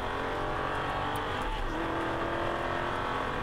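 An Aston Martin V8 Vantage accelerates hard on a race track, its engine a loud, steady roar that climbs in pitch through the run, with a faint tire squeal mixed in.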